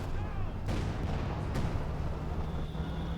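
Shells and shots glancing off tank armour in Company of Heroes 2, loud heavy impacts over a rumbling battle bed, with two sharp metallic cracks standing out early and a ringing tone near the end.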